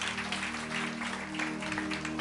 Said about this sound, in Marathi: जरा जोरदार टाळ्या प्रभूसाठी.